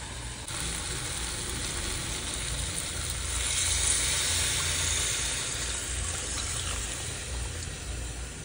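Chicken sautéing in a covered pan with a little water gives a steady, close frying sizzle and steamy hiss that runs unbroken for several seconds, swelling slightly midway, with no talking.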